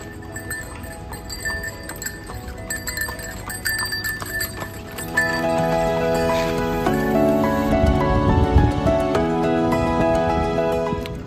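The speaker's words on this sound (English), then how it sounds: "Clippity-clop, here comes Horsey." A horse on the island of Aegina clip-clops along with a steady rhythm of hoofbeats under bright bell jingles and music, moderately loud and close.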